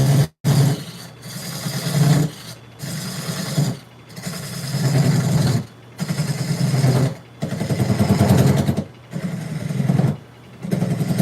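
On a woodturning lathe, a tool rubs against a very hard spinning piece of wood, a buzzing grind that comes in repeated passes of a second or two, broken by short silent gaps.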